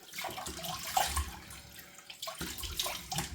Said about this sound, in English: I'm going to give it a rinse with cold water just to shut the pores up.